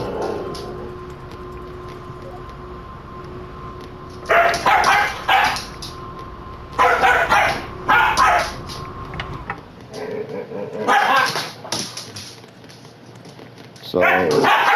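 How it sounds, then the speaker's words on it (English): Several dogs barking and yipping in bursts while playing, close and loud, with quieter stretches of low background hum between the volleys. "Dogs are playing."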